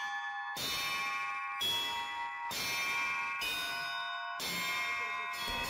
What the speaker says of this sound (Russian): Колокольный звон – это важная часть храмового богослужения.